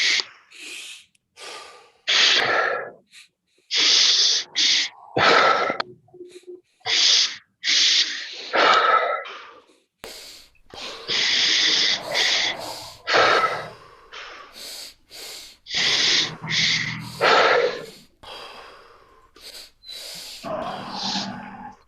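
A group takes deep breaths during a breathing exercise at a mental health awareness night, with repeated loud, close inhales and exhales, some hissing and gasping, in an uneven rhythm.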